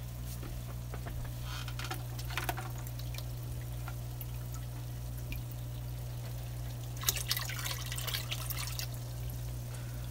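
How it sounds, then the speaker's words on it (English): Water trickles and drips steadily as tanks are filled from another water tank, a low continuous flow with a soft hum beneath and a brighter splashing burst midway, no voices. "I've been taking water from this tank and filling the other tanks"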